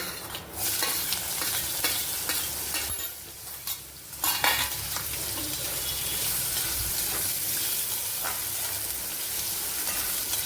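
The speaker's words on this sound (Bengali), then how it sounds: "এবার আমি কুচনো গাজর দিচ্ছি।" Whole cumin, cardamom, cloves and chopped carrots sizzle steadily in a hot pan, a continuous loud frying hiss with a few scraping stirs and clinks of a utensil, no voices.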